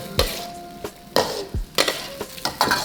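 Sauce bubbling in a hot pan after cornstarch is added, with a constant sizzle broken by several sharp spatula scrapes and knocks against the pan, close and fairly loud.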